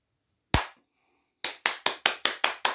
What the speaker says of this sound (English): And a quick, quick, quick scissor clap.